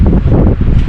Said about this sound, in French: Il y a pas mal de vent ici, c'est pour ça qu'il fait froid.